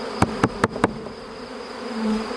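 Honeybees drone loudly and steadily around a new beehive being set up, with four quick knocks or taps near the start.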